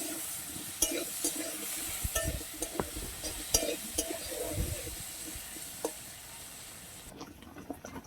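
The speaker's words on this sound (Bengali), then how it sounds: "আলু ভাজাগুলো হয়ে গেছে" Potato pieces fry with salt and turmeric in a kadai, a steady soft sizzle under frequent scraping and stirring clicks from a spatula, close by, with the hiss easing off near the end.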